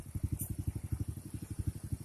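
Honda Supra underbone motorcycle engine idling steadily during carburetor tuning, a low, even, rapid putter of firing pulses, close and continuous with no voices.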